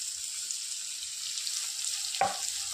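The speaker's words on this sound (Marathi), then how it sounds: "छानसं लाल होईपर्यंत भाजून घ्यायचं आपल्याला" Onion, garlic and curry leaves frying in a pan for a spicy sprouted moth bean dish, a steady close sizzle throughout with one brief scrape or clatter near the end.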